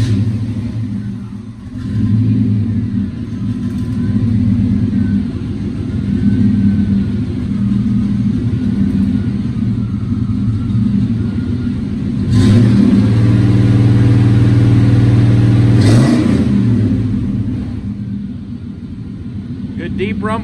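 A 1954 Studebaker Champion gasser engine with a new stainless exhaust rumbles deeply at idle and revs up in a couple of swells, close and loud, with people talking over it.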